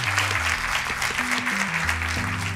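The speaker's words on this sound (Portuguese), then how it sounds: "Aplausos para eles." Studio audience applauding on the Portuguese TV quiz show Brainstorm, a steady broadband clatter of clapping over quiz-show music with a stepping tonal line, moderately loud and continuous for a couple of seconds.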